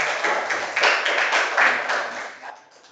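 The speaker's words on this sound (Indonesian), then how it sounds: "tepuk tangan untuk Azka dan Adil" A classroom of students claps for two classmates, a short, lively burst of hand clapping that swells in uneven waves and fades out by the end.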